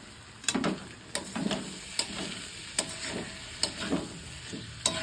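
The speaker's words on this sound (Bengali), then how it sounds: "এবার আমি ছোলা ডালটা দিয়ে দিচ্ছি এই যে মশলা কষার ওপরে।" Chana dal sizzles in a pan of frying spice paste, a steady hiss punctuated by regular clicks and taps as it is stirred, close and moderately loud.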